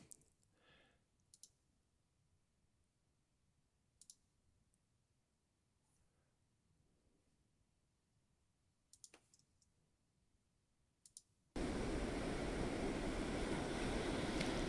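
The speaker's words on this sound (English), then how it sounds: "I like this because I can use the sound of the waves in the" Ocean waves: a long, quiet stretch with sparse faint clicks gives way suddenly to a loud, steady rush of surf that fills the end.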